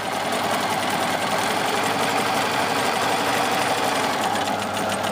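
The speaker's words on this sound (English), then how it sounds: "I'm going to stitch on and off like this all the way up. No back stitching, just zigzag." A sewing machine zigzag-stitches the inner leg seam of boxer shorts, running loud and continuous with a steady mechanical hum throughout, no voices.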